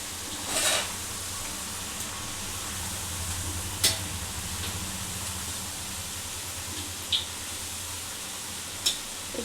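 Telangana-style garelu, lentil fritters, frying in hot oil with a constant bubbling sizzle and a few brief clinks or pops, heard alone without talk.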